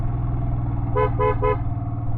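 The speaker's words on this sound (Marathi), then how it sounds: "प्रत्येक वळणावरती हॉर्न वाजवावा लागतोय" A car horn sounds three short, evenly spaced toots on a winding hill road near Mahabaleshwar, over a steady engine and road rumble.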